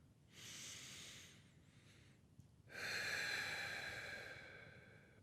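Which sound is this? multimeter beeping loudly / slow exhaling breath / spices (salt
slow exhaling breath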